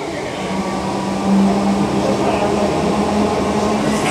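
A Merseyrail Class 507 electric train runs with a steady low rumble and a faint motor hum, heard from inside the carriage at moderate loudness with no talking.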